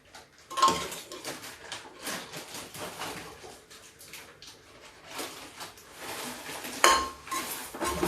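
Cooked potato and eggplant curry being served with a pan and utensils, metal spoon scraping and clinking against the pan in irregular bursts, close and moderately loud, with two sharper clanks along the way.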